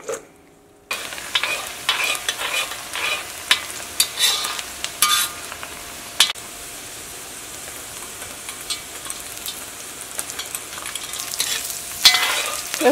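Sliced onions and raisins fry in a pan, a steady sizzle that begins after a short silence and is broken by repeated clattering stirs and scrapes of a utensil, with louder bursts near the end.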